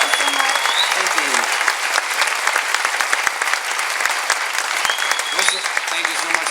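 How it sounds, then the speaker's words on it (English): A crowd at the 2013 Energy Fair gives the keynote speaker Josh Fox a long, loud round of applause, dense steady clapping with scattered voices and whistles threaded through. "just one more round of applause for Josh Fox"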